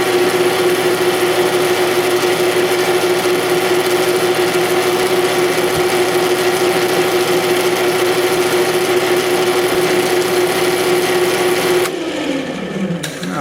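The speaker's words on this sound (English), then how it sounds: "And this is a buffing wheel." A buffing wheel on a Vevor drill press polishing a steel 5/8 inch bowl gouge, a steady close mechanical whine with a constant hum, continuing evenly before the motor cuts off and spins down at the end.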